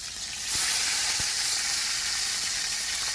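Curry leaves sizzling in hot oil with lentils, a steady close frying hiss with a couple of sharp crackles near the start, continuous throughout with no talking.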